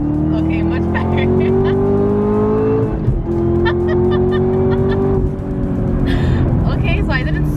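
A sports car revs hard in first gear, its engine note climbing loudly and steadily, dipping briefly at a shift-like break around three seconds and climbing again, with the car's interior drone throughout.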